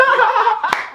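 A lone audience member's hand claps at a freestyle rap performance, a brief scatter of light claps with a sharper single clap near the end, heard close and fairly loud.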